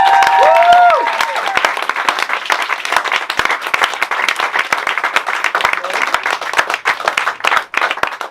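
Concert crowd applauding loudly after a call to cheer for a performing band, dense steady clapping with a brief whistle or cheer at the start, sustained throughout.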